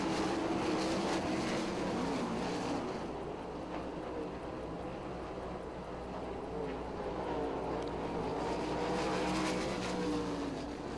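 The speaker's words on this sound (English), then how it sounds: "but Ross holds on for right now as they go down the front stretch" 410 sprint cars racing at Lincoln Speedway produce a continuous, distant engine roar that swells and fades as the pack passes, heard alone without voices.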